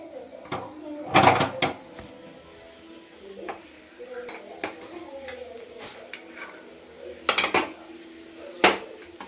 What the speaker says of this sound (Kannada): ಈಗ ನಾನು ರೈಸ್ ಹಾಕೊತಾ ಇದ್ದೀನಿ.